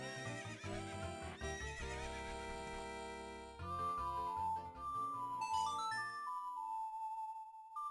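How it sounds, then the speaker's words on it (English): A horse neighs in The Legend of Zelda: Ocarina of Time, its whinny mixed with clip-clop hooves over bright, tonal game music, followed by a chiming jingle that fades to a single held note. "Come to me, my steed."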